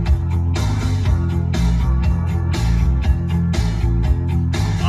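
A loud remix plays with heavy, steady bass and a driving beat throughout, dense and continuous with no talk over it.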